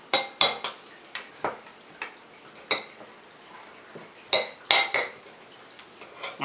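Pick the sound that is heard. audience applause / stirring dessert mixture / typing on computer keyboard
stirring dessert mixture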